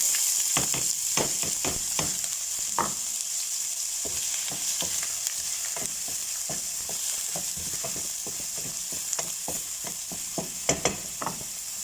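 Garlic and onion fry in butter and olive oil for tuna pasta, giving a steady, loud sizzle throughout with frequent close scraping and stirring clicks from a utensil in the pan.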